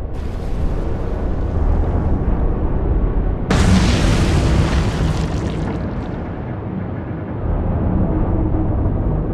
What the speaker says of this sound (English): Torpedo coming out of the tube immediately, fire.